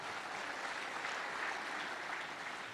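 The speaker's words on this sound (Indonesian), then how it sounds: "Sekali lagi tepuk tangan bagi kita semua." An audience at a speech by Mahfud MD in Aceh applauds in a soft, even, continuous patter of many hands, heard from some distance without any voices over it.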